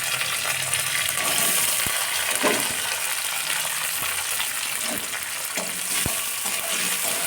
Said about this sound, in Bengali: রসুন কুচি দিয়ে দিচ্ছি এবং গোটা রসুন 4খানা দিয়ে দিচ্ছি এবং কুচানো লঙ্কা কুচি দিয়ে দিচ্ছি।